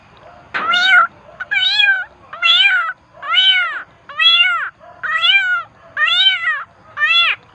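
A voice imitates a cat, giving eight drawn-out meows one after another with short pauses between them, loud and close.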